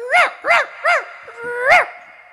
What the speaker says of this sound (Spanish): dice que usted tiene un perro acá